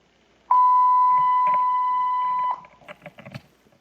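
A single long, steady electronic beep holds for about two seconds at one pitch, then cuts off, followed by faint clattering and rustling noises.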